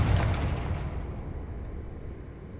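A fiery Confringo blast spell goes off in Hogwarts Legacy, a loud booming burst at the start that rolls into a long rumbling decay with no voices.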